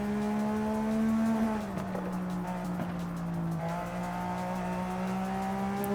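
A Porsche 911 engine in Forza Horizon 5 holds a steady high-revving drone, its pitch dipping and rising slightly, loud and continuous with no talk.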